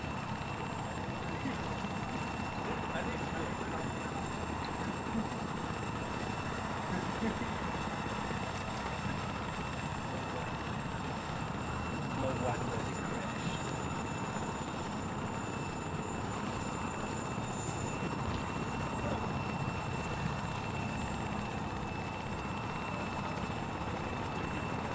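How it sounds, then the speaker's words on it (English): An Apache helicopter flying in ground support gives a continuous, steady rotor and engine drone. It holds at an even level and stays moderately loud throughout, with no distinct speech. "I cannot board the chopper."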